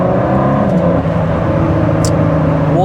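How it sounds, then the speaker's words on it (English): A Ford GT with a V6 engine revs hard while driving, a loud, steady engine drone with rising harmonics throughout. "I can't believe that a V6 is producing these noises"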